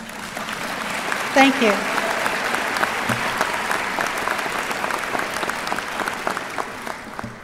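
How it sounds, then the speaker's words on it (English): Audience applause fills a university commencement ceremony for the class of 2012, a steady broad wash of many hands clapping throughout, with a brief spoken thanks near the start. "A round of applause."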